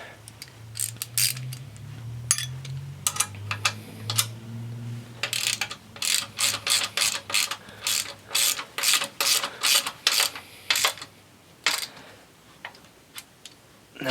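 A hand ratchet tightens nylock nuts on a 1975 GT750 motorcycle during final assembly. Close, crisp pawl clicks come in quick rhythmic strokes, sparse at first and then in dense repeated bursts.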